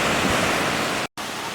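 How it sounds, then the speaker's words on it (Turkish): Sea surf at İğneada beach in Kırklareli, Turkey, on a clear July day with fairly rough waves: a steady, loud, broadband wash of breaking water close by, with one brief dropout of silence. "Biraz çok dalga var."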